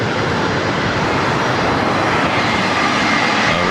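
WestJet Boeing 737 MAX 8 jet arriving at LAX from Toronto, a brief, loud, unbroken engine roar at close range with no talking.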